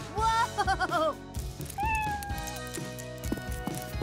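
Kittens meowing: a quick run of warbling, wavering mews followed by a longer sustained meow and some softer sounds, close and fairly loud, with other background sounds around them.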